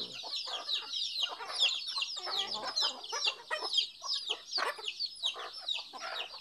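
Chickens on a farm cluck steadily and continuously, several birds together close by with overlapping calls, some tethered and some roaming free among chicks, with no talk.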